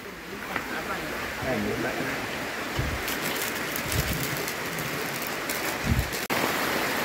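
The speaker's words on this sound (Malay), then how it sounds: "Hujan lebat." Heavy rain pouring steadily at a campsite, a dense continuous hiss with a few low thumps and brief talk underneath.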